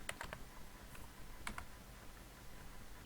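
Faint, sparse key presses on a computer keyboard as programming code is typed, scattered light clicks over a quiet room hiss with no one speaking.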